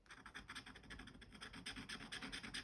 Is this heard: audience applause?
no